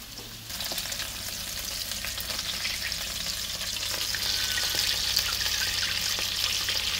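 Sausages, potatoes and onions frying in a pan outdoors, a steady close sizzle with occasional stirring and crackles, growing slightly louder, with no talk.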